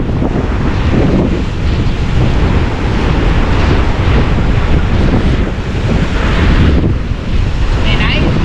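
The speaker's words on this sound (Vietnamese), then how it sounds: "càng về chiều càng gió" Strong wind buffets the microphone by the sea at the Phan Rí Cửa fishing port in Vietnam, a loud, continuous roar mixed with surf, with no pauses throughout.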